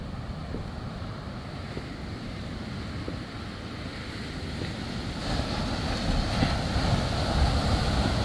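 Rough surf churning and rushing onto a rocky beach in Marshall, Liberia, with wind noise buffeting the microphone; the waves swell louder toward the end.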